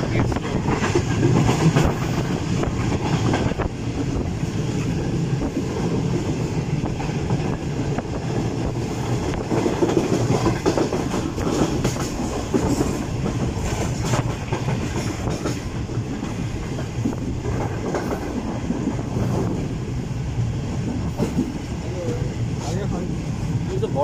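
Karakoram Express running at night on the Karachi–Lahore line as it approaches Khanpur Junction, a steady close rumble of wagons with faint clickety-clack rhythm, continuous and loud throughout.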